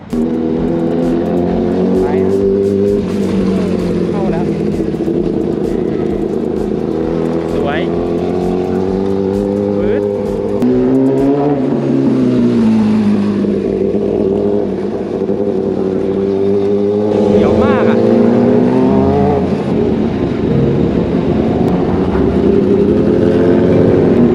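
A Kawasaki ZX10 big bike leans through a curve, its engine a loud, continuous drone whose pitch dips and rises with the throttle, with a voice speaking over it.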